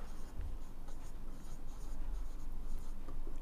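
Writing on a board during a geometry lesson gives a run of short scratchy strokes, fairly close and steady, with no one talking.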